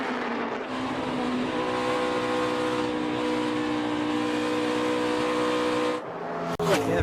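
A NASCAR Nationwide race car engine screaming at high RPM, around 7,000 to 7,500, through the center of a corner; a loud, sustained, steady whine with a sharp break near the end.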